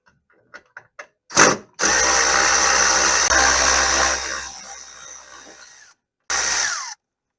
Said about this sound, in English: We're gonna remove actually these two bolts from here.